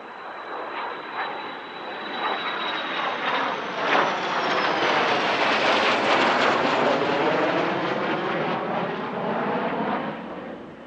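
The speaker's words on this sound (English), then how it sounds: "The J-29 also flew with two of its Cold War contemporaries, the Sabre and MiG-15." A Saab J-29 Tunnan jet passing overhead at an air force anniversary airshow alongside a Sabre and a MiG-15, a loud broad engine roar that swells and holds steady with a whistling whine early on.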